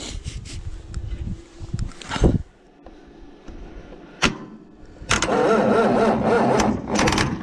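A tractor's engine is cranked by the starter in a few loud grinding bursts, stops briefly, then catches and runs, rumbling steadily up close.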